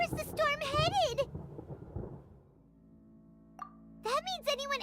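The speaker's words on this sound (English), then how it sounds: "Paimon hears thunder!" Thunder rolls in the game Genshin Impact as a low, muffled rumble that swells between bursts of a high, childlike character voice talking before and after it.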